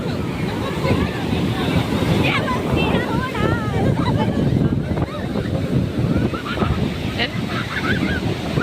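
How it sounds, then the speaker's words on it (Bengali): Rough sea at Puri beach: waves churn and crash without pause, loud and close, with wind rushing across the microphone. A person speaks now and then above the surf. "সাংঘাতিক ঢেউ গো,"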